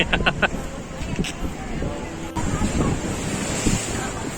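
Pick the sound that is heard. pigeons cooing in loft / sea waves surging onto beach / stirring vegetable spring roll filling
sea waves surging onto beach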